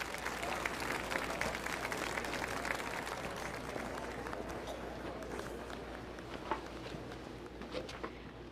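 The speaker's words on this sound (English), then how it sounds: "Please, let's give a big round of applause for Dr. Beatrix Serra." A round of applause rises from an audience for a doctor introduced on stage, a dense patter of clapping that is strongest at the start and slowly thins and fades, with a few sharper claps near the end.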